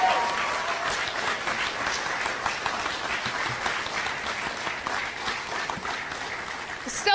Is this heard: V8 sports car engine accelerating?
no